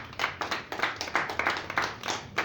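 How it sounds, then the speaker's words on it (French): An audience at a talk on marriage claps in quick, steady unison, with many hands beating a fast even rhythm and no clear cheering. "Est-ce qu'on peut acclamer pour lui?"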